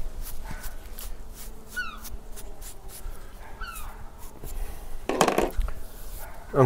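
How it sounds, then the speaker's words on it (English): A dog whimpers in short, high, whining cries, with a few yips and a louder burst near the end, heard fairly close over a low indoor background. "My dogs."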